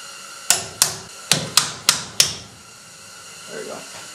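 A hammer drives a roll pin through a brass drift with six sharp, close metallic taps at an uneven pace, followed by a short quiet stretch with faint handling sounds.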